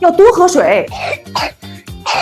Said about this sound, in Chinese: 宝宝的咳嗽声其实是身体发出的健康警报